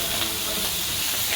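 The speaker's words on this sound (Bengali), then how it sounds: "এই কুটুমবাড়ির নতুন শেফ আমাদের ইরহামের মা আমাদের জন্য ফিশ ফ্রাই করতেছে" Hilsa fish fry in a pan with a dense, loud, unbroken sizzle close by, hissing evenly throughout.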